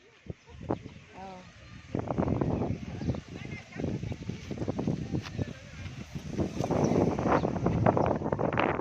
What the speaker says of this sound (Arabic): الجو بدأ يبرد، في شويه هوا.